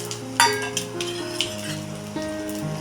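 Cashews, raisins and dry coconut sauté in ghee for coconut rice, giving a close steady sizzle with a few spoon stirs and light clinks against the pan.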